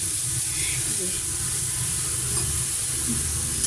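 Spice paste for a raw jackfruit curry fries in a pan over medium heat, making a steady, close sizzle and hiss that runs the whole time without a break.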